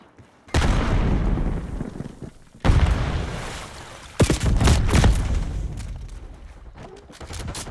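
Several loud, booming blasts in Call of Duty Black Ops 6 multiplayer, each a sudden hit followed by a long rumbling tail, coming about every two seconds amid continuous battle noise. They fit a grenade explosion.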